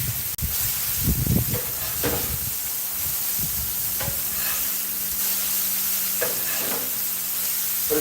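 Smash burger patties sizzle and hiss steadily on a hot grill at a home cookout, with a few louder scraping clatters as spatula work stirs the frying meat.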